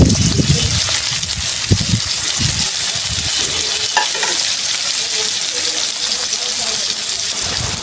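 Bitter gourd pieces hit hot mustard oil in a pan, giving a steady, loud broadband sizzle with a few stirring scrapes and clinks running through it.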